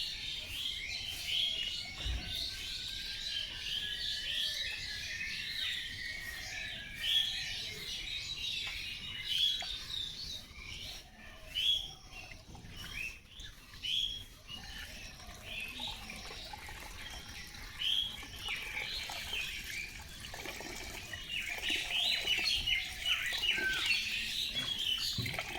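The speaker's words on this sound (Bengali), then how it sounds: "আর চারিপাশে পাখির ডাকটা তোমরা একটু শোনো একবার" Birds chirp and call in the morning around a backyard water tap area, with scattered bright tweets over a steady, water-like hiss through the whole stretch.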